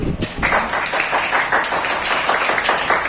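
A school class claps hands together, a dense burst of many claps filling the room and loud and close throughout.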